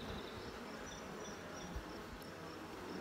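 Honey bees buzz around an open hive and a nucleus colony, a soft, continuous drone close by with no voices.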